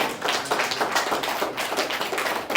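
A church congregation claps hands during a Tamil sermon: a dense, continuous patter of many hands, loud and close, with no speech over it.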